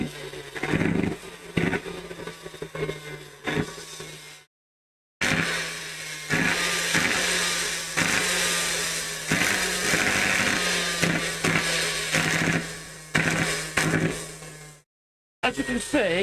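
A Henry motor runs during an armature winding test, giving a steady close buzzing hum with a harsh rasping edge, stopping briefly twice; a voice talks over parts of it.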